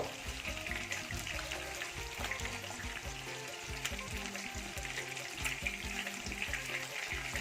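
Chicken frying in a pan of hot oil, a steady dense sizzle and crackle running throughout at close range, with no talking.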